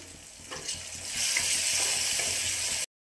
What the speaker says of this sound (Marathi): आता हे छान असं परतून घ्यायचं आपल्याला।